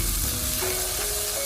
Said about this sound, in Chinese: 最后把青红椒也加进来，